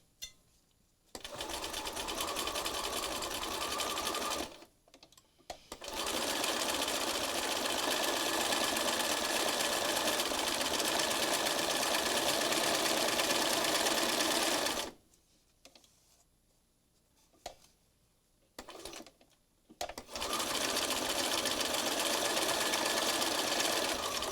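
Sewing machine stitching a 3-step zigzag pattern on fabric for mixed-media collage cards, running in long steady bursts of whirring with brief stops between them, close and loud with no talking.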